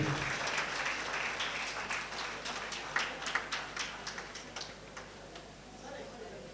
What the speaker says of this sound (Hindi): एक बार सभा में तालियों की जैसे ऊपर गड़गड़ाहट हो रही वैसे यहां भी होना चाहिए।